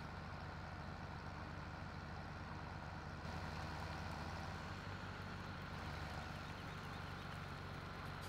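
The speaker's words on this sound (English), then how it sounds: "this tractor's too loud." Tractor engine in the video game Farming Simulator 17, a steady loud drone running throughout, alone and without talk.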